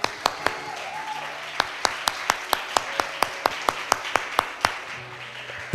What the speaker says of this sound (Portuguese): Aplauda o Senhor pela sua vida